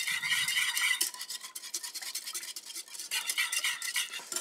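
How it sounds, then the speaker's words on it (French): A whisk scrapes briskly around a pan, mixing yuzu juice and lime zest cold for a lemon cream, a continuous bright metallic swishing with a steady rhythm. "Je prends mon fouet, je remue."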